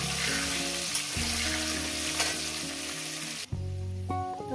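Potatoes frying in a pan for a light meat curry, a steady broad sizzle running throughout, with a sustained musical tone under it and a brief drop near the end before a different melodic pattern begins.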